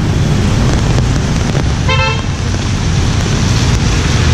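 A short horn blast rings out over the dense, steady rumble of car and motorbike traffic on a Hanoi street, a single honk near the middle against continuous close road noise.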